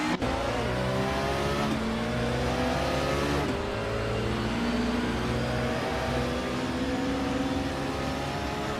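A 2000 Audi A4 B5 race car in a racing video game, its engine revving hard with repeated rising gear sweeps, loud and continuous with no talk.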